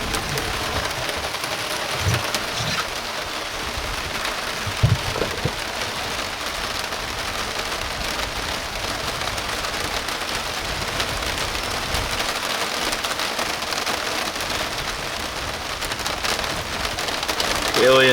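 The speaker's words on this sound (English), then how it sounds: "And it's pouring." Heavy rain pours down over an open field food plot, a dense, steady hiss of drops hitting the ground that goes on unbroken throughout, with a few louder nearby splats.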